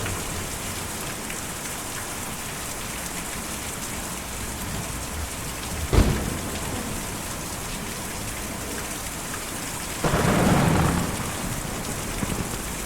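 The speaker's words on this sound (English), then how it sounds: "Oh, it's raining up here." Steady rain pours in the video game Kentucky Route Zero, a constant hiss with no talking, broken by a sharp crack near the middle and a brief louder thunder rumble toward the end.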